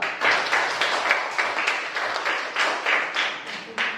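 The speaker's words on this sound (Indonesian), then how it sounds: "berikan tepuk tangan untuk kelompok kedua" A classroom audience applauds a presenting student group, a fairly small cluster of hands clapping close by in loud, rhythmic bursts that pulse steadily throughout.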